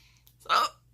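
A single sharp hiccup sounds up close, a brief voiced burst lasting about a fifth of a second, surrounded by quiet room hum.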